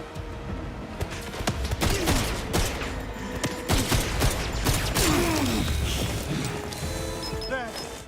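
Turret gunfire in a video game: dense bursts of rapid automatic shots and sharp impacts sound close and loud over a busy mechanical background, with voices mixed in.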